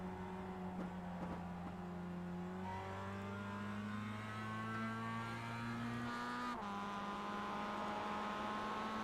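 Mazda MX-5 race car at Barber Motorsports Park, engine note climbing steadily through the revs with a shift partway, heard onboard at moderate level with a constant drone and no voices.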